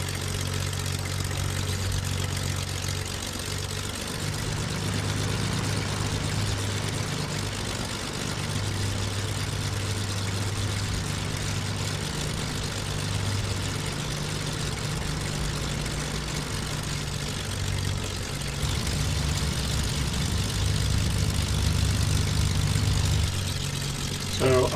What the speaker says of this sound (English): we let the engines warm up nicely and we shall taxi gently to the